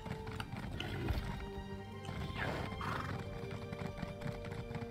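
In the video game ESO: Morrowind, a horse whinnies and its hooves clip-clop steadily, close and moderately loud over a busy ambient background with layered tones.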